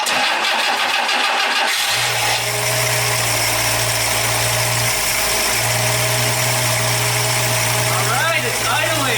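A 1962 AMC Rambler pulled from abandonment cranks and catches, its engine roaring loudly into a rough, steady running note with a brief dip before settling, close by.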